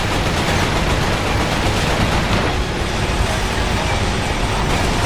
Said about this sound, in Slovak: on do nás so samotalom strieľa, to není dobré